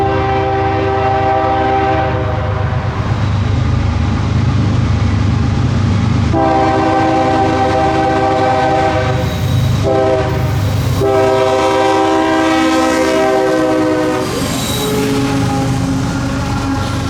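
A CSX intermodal freight train, I-115, rolls past on the Sand Patch Grade, with a loud, steady rumble of rail cars throughout. Several long horn blasts sound close by, alone with no talk.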